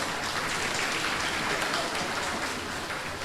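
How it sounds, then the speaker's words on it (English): Audience at a UNC political party award ceremony in Mayaro giving a steady, dense round of applause that holds at an even level throughout with no break. "Give yourselves a round of applause."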